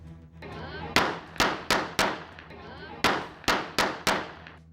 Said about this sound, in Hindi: अपनी लाइसेंसी रिवॉल्वर से एक के बाद एक कई गोलियां हवा में दागते नजर आए